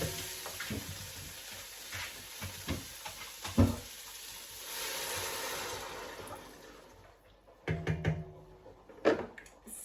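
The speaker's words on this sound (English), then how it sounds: "Just give it a quick stir" A spoon scrapes and knocks around a cooking pot as stock is stirred in, giving scattered clinks and liquid sloshing with a short rushing swell in the middle, fairly close and with no voices.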